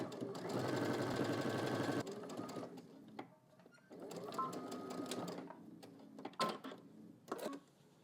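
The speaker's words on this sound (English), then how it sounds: "let's head to the machine. We're going to stitch starting here all the way here using 5/8 seam allowance." A sewing machine stitches a 5/8-inch seam on a pocket bag for casual shorts, running in two loud, steady bursts with short pauses, then a few brief clicks and handling sounds.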